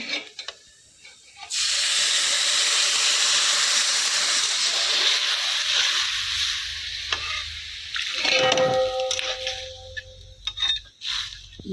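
Water hits a hot frying pan after frying, with a sudden loud burst of hissing steam that slowly fades, followed by scraping and clinking.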